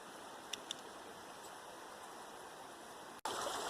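The Rio Minho river in Jamaica flowing, a steady soft wash of rushing water with a couple of faint ticks, cut by a brief dropout before resuming slightly louder.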